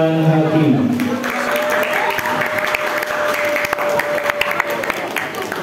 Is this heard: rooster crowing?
no